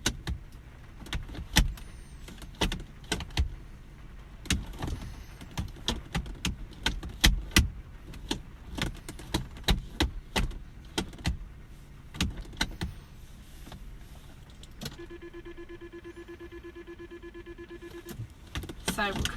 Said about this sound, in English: So we go into reverse there and you listen to the car as well